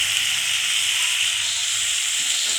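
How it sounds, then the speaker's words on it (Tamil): Kurma ingredients with rock salt sautéing in a pan, giving a steady, even sizzle and hiss that carries on without a break, close and moderately loud, with no talking. "நல்லா குழன்னு வர வரைக்கும் வதக்கிக்கணும்"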